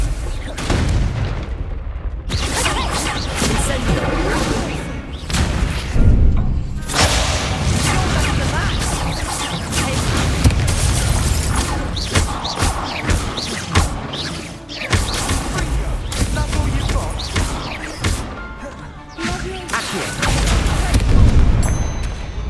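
Repeated booming Confringo spell blasts in Hogwarts Legacy burst loudly one after another with bangs and rumbling impacts, over dense game action and effects.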